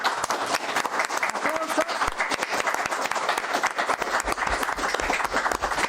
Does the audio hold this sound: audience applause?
yes